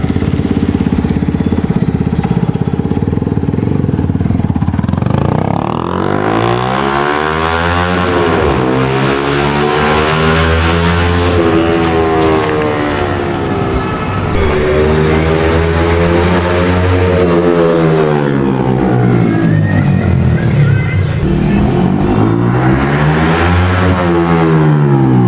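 A Yamaha R15M motorcycle fitted with an R1M Akrapovic exhaust revs hard on a road, its raspy exhaust note climbing and falling in repeated long sweeps, loud and close with no talking.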